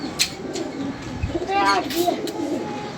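Pigeons coo softly in the background while people talk nearby, with a few brief chirps mixed in.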